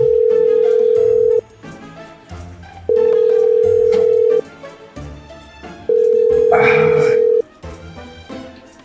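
A telephone call rings through with a steady, loud tone repeating three times in long pulses, each broken by short gaps, while people talk and background music plays underneath in a village comedy scene.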